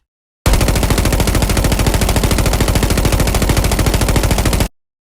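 A BP-50 rifle from a video game fires a loud, rapid automatic burst of evenly spaced shots lasting about four seconds, starting and stopping abruptly.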